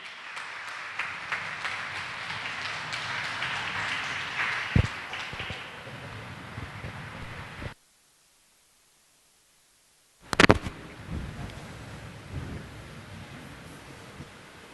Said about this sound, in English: one more round of applause for Binduji